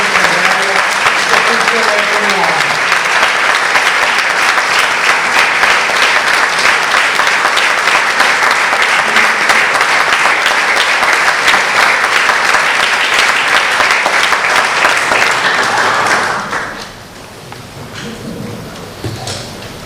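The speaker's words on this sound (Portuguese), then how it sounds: "com uma grande salva de palmas por todo o trabalho" A large audience at a book presentation breaks into long, dense, loud applause that holds steady for about sixteen seconds before dying away abruptly, leaving quieter room sound; a voice is briefly heard at the start.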